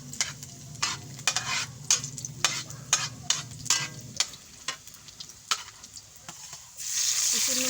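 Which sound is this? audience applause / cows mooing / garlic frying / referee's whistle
garlic frying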